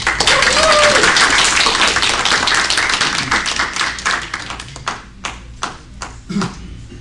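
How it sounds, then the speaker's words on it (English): An audience at a breakfast club meeting gives a warm round of dense applause that thins out to a few scattered claps by the end. "Let's please give a warm round of applause, Kathleen Ingram."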